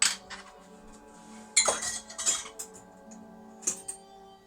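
Garlic paste spooned into a bowl for a keema meat marinade, with sharp metal utensil clinks and taps against the bowl in a few irregular bursts, close by and otherwise quiet.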